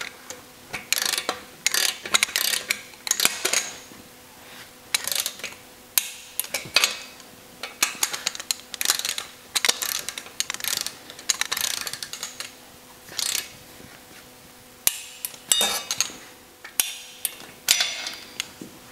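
Torque wrench clicking and ratcheting while cylinder head bolts are tightened in a crisscross pattern on an air-cooled Porsche engine, a long series of close, sharp mechanical clicks and ratchet bursts with short pauses between bolts.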